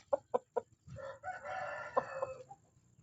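Three quick, close clucks from a chicken, followed by a rooster's drawn-out crow and a few trailing clucks, all fairly faint with no talking.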